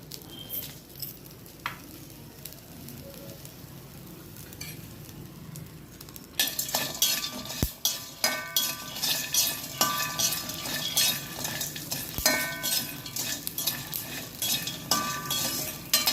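Ingredients for coriander paneer fry crackle in a kadai, a low hiss that swells into a loud, busy sizzle after a few seconds, with stirring clinks and pops and no talking.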